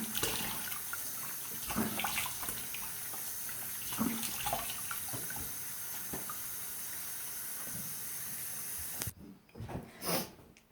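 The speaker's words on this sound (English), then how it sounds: "Make sure I have some warm water. And then I'll go ahead and rinse off." Warm tap water runs steadily into a bathroom sink as a face is rinsed by hand, a continuous close hiss broken by splashes, then the flow stops, leaving a few wet splashing sounds.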